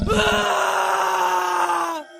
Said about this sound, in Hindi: तभी गोपी की चीखने की आवाज आती है।